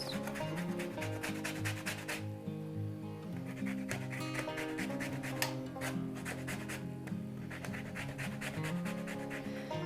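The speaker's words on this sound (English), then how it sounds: "we want to put in plenty of lemon zest" A lemon is rubbed against a zester in fast, repeated scratchy strokes, close and continuous, with no talk.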